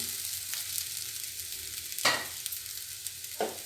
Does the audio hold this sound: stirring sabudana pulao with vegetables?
yes